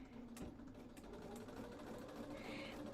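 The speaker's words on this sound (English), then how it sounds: "back to the machine, and we're going to sew that last one" A sewing machine stitches quilt pieces for a pieced sunflower block, a steady quiet mechanical whir running continuously and up close, with no talking.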